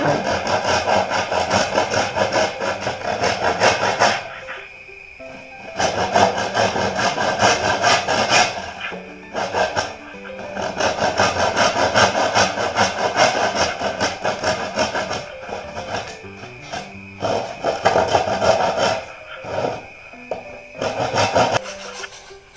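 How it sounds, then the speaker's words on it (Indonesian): A hand saw cuts through bamboo to size, its steady rasping strokes running in long stretches broken by short pauses, close and loud. "Pertama, potong bambu sesuai ukuran yang diinginkan."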